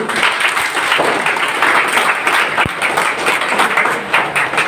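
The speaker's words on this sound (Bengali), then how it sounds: "সিলভার ডাইরেক্টর জন্য একবার জোরে হাততালি হোক" An audience at a business presentation claps for a silver director, giving dense, steady applause that runs the whole time. It is loud and close, with no clear pauses.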